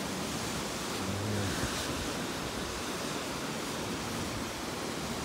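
Ocean surf at the northernmost point of Barbados, where the Atlantic meets the Caribbean, makes a constant, fairly loud roar mixed with wind buffeting the microphone, with no voices.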